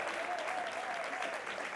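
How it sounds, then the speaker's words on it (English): An audience claps in a brief burst of applause at a panel event on trust-building, a dense, even patter of hands at moderate distance. "So a round of applause for Jenn White."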